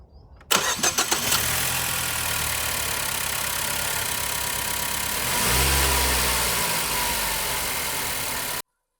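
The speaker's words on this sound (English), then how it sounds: "let's start up the engine, make sure that there's no leaks underneath" A Ford Focus engine cranks briefly, fires and catches, then idles steadily up close with a brief rev partway through before the sound cuts off abruptly.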